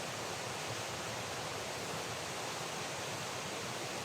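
A stream flows in a video game as a faint, steady, hissing rush of water that continues evenly with no other sounds.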